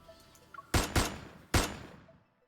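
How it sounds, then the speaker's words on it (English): Gunshots in a video game echo through an empty reception hall: three sharp, loud blasts, two in quick succession and then a third, each trailing into a short reverberant decay, with no talking. "A gunshot explodes in the empty reception hall."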